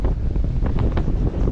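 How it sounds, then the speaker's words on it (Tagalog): Strong wind buffets the microphone aboard a large boat at sea, travelling from Mindoro to Navotas, as a loud, constant roar with churning water underneath and no voices. "Malakas mga amigo, malakas ang hangin."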